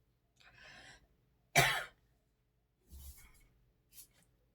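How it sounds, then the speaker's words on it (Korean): Several dry coughs and throat-clearing sounds from a man with weak bronchial tubes, one loud sharp cough followed by softer ones, close and indoors with quiet pauses between them. "그냥 또 이게 기침하는 게 나갈 것 같아서"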